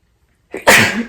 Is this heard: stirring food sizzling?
no